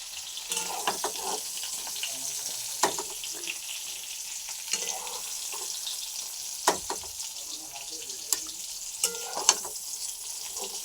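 Pointed gourd (potol) pieces fry in oil in a pan, giving a continuous close hiss of sizzling, with occasional sharp clicks and scrapes as they are turned and moved about.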